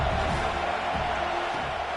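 Stadium crowd at a college football game roaring steadily for a big third-down defensive stand, a dense, continuous wash of cheering with no clear breaks.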